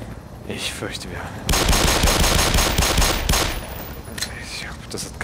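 Rapid automatic gunfire in the video game Black Mesa during a fight against a combat helicopter, a dense, loud barrage that swells midway and fades into scattered shots.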